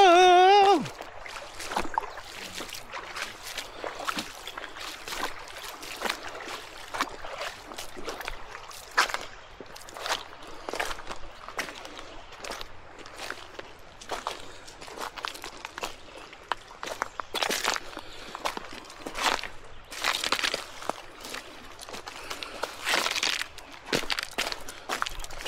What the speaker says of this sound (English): Hiking through the creek.